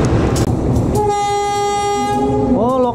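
The Argo Wilis passenger train rumbles past close by in fog near Haur Bugur, Bandung, Indonesia, and a loud, sustained horn blast sounds partway through before bending in pitch at the end.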